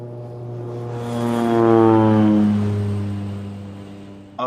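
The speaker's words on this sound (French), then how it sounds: "Au-dessus de sa tête, les avions passaient vraiment à basse altitude, poursuivis par des balles traçantes." Propeller airplanes fly low overhead near Sainte-Mère-l'Église on D-Day, their droning engines swelling to a loud peak as they pass and then fading, with the pitch sliding downward as they move away.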